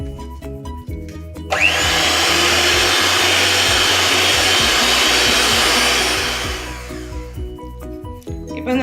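An electric mixer whirs loudly and steadily for about five seconds, folding whipped egg whites into Kerala plum cake batter, then winds down, with light kitchen clatter before and after.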